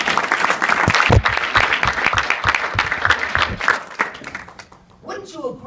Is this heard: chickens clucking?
no